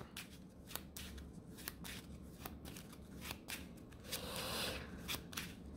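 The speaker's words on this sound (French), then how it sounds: "Donc, on remélange tout ça." Playing cards are riffled and shuffled back into a deck during a board game, with a run of quick crisp flutters and soft snaps at close range, ending in a denser rustle.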